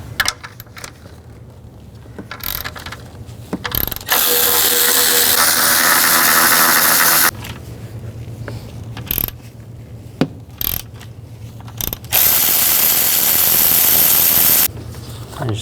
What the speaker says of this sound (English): Then use a 13mm socket and take these 3 bolts out here